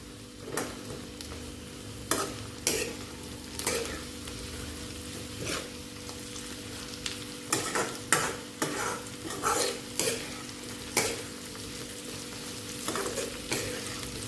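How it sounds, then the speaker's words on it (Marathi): A spoon stirs bitter gourd curry with onion slices and turmeric in a pan over a medium flame, with repeated scraping strokes over a soft, steady sizzle, close and without talking. "त्यामध्ये घालणार हळद. छान मिक्स करून घ्यायचं."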